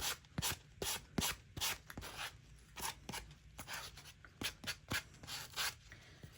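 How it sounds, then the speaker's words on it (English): Rhythmic scraping strokes of a sanding block rubbing against an edge, repeated back and forth at a steady pace, close and fairly quiet. "I'm going to use my sanding block and I'm just going to kind of rough up the edges"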